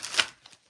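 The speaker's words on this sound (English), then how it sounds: "So I'm going to shuffle the way that I like." Tarot cards being shuffled by hand: a brief riffling burst of papery flicks, loudest at once and then trailing into a few faint soft taps, close and alone with no voices.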